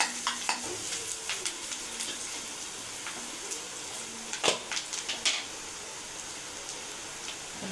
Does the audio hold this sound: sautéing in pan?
yes